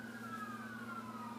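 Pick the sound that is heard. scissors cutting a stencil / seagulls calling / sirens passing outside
sirens passing outside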